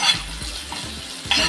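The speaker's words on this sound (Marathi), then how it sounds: "आता आपली मिरची आपली परतून झालेली आहे" Green chillies sautéing in a pan, a soft steady sizzle with a few stirring scrapes near the start and end.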